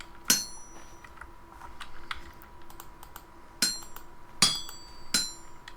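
A hammer strikes metal on an anvil during steel making in the game Vintage Story. A few sharp, ringing clinks sound at irregular intervals, separated by quiet gaps with faint background clicks.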